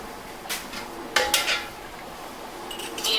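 Glass canning jars pulled out and handled while making homemade elderberry syrup: a few close clinks and knocks of glass against glass and metal over a steady background hiss, with no speech.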